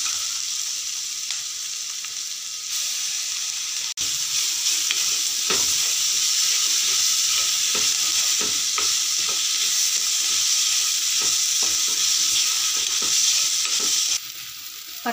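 A spoon of ginger garlic paste fries with softened onions in oil for a prawn gravy, giving a constant loud sizzle broken by repeated scraping stirs across the pan, with no talk.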